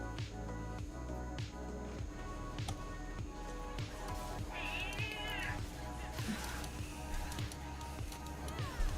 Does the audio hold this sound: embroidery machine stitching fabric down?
no